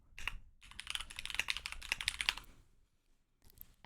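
Rapid typing on a mechanical keyboard fitted with Gateron Milky Yellow switches, a dense run of close, crisp keystroke clacks for over two seconds, then a pause and a few more keys near the end.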